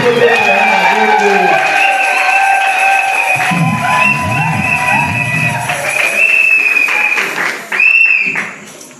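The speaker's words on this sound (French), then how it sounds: "nous l'encourageons avec nos acclamations" Wedding guests in a Christian assembly hall cheer loudly with high, sustained whoops and ululating cries over a bed of clapping, the voices rising and falling for several seconds before a final burst.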